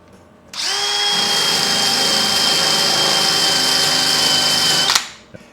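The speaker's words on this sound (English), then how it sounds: "this is my new 2-inch thick wire wheel" A 2-inch thick wire wheel spun by a power drill strips corrosion from an aluminum jon boat transom, a loud, steady high whine starting abruptly, holding for about four seconds, then winding down, with no talk.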